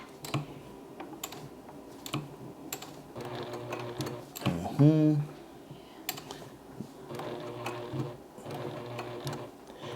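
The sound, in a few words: sewing machine stitching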